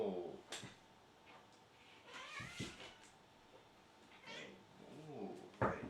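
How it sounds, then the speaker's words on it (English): A pet cat meows in the background, several short calls scattered across the span alongside faint knocks and movement, fairly quiet and at some distance from the microphone. "don't mind my cat in the back"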